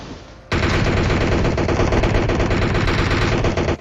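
Sustained rapid automatic gunfire from the mobile battle royale game PUBG Mobile, a loud continuous burst of shots that starts abruptly after a quiet moment and runs without pause.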